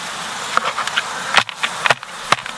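Honeybees buzz around an open hive being inspected during a varroa treatment, a steady insect drone broken by several sharp close buzzing passes and brief handling knocks, with no talking.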